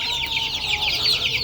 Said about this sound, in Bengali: এই যে দেখেন মাশাআল্লাহ মুরগির বাচ্চাগুলা সুস্থ আছে